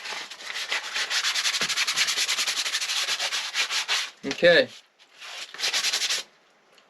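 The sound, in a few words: sanding a cedar cutting board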